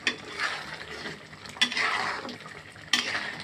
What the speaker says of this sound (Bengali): ভিনেগারটা দিয়ে একটু নাড়াতে দিই